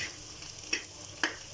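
Eggs fry quietly in a pan with a soft, continuous sizzle, broken by a couple of brief crackles or stirring touches, heard close with no voices.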